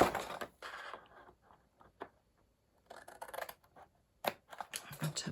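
Scissors snipping through a cardboard cracker box in close, irregular bursts of crisp cuts separated by short pauses, fairly quiet overall.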